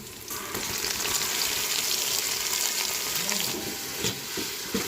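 Tomatoes added to a hot frying pan of tempering, a loud continuous sizzle and crackle up close with a few stirring scrapes, steady from start to finish.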